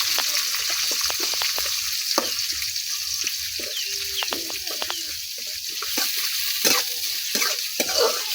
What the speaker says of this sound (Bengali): এখন পেঁয়াজটা কিছুক্ষণ ভাজে নেন।